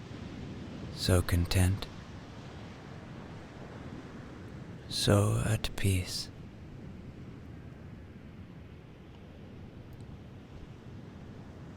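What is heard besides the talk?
ocean waves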